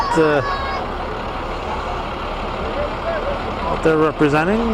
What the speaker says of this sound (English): Let's see, another tow truck here